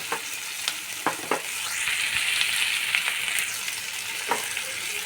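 Fish heads fry in a pan of spiced masala for dal, with a steady sizzle and crackle throughout and occasional scraping stirs of a spatula, close and fairly loud.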